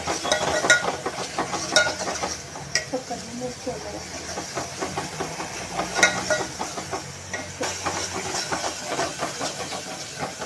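Ground masala paste sizzles as it fries in hot oil for a home-style katachi amti, a steady hiss and crackle running throughout with a person talking over it.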